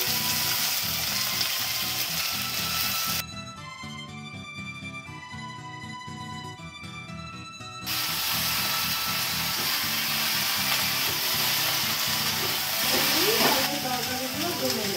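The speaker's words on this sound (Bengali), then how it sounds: "এবারে একে একে মা সবজিগুলো দিয়ে দেবে কড়াইতে।" Vegetables sizzle and fry in oil in a kadai along with dry red chilli, panch phoron and a bay leaf, giving a steady crackling hiss. Music cuts in partway through, and stirring and clatter come near the end.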